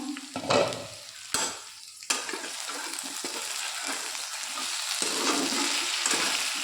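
Curry stirred in a hot pan gives a loud, bright sizzle, with a few sharp scraping strokes of the spoon early on, then a steady hiss that swells slightly toward the end.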